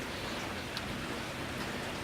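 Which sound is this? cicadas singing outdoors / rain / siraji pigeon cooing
rain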